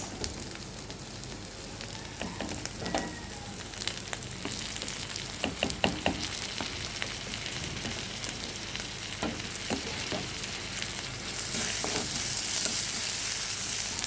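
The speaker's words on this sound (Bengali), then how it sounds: "পেঁয়াজটা একটু লাল হয়ে গেছে এখন দিয়ে দিব কাঁচামরিচ" Onion and green chili fry in a pan for a puti fish curry, a soft steady sizzle with occasional crackles and stirring knocks, growing slightly louder toward the end, with no voices.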